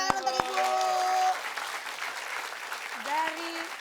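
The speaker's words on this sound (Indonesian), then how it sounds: "Kita kasih tepuk tangan untuk Ibu." A studio audience on an Indonesian TV comedy show breaks into a short burst of applause, with voices and tonal sounds over the clapping.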